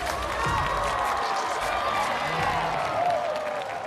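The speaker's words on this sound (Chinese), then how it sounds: "让我们再次把掌声送给他们。" A studio audience at a street dance competition show breaking into sustained applause and cheering, a dense, continuous wash of clapping and crowd noise that stays loud throughout.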